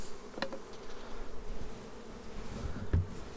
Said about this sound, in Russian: Хорошо пчелки отработали, очень приятно на них смотреть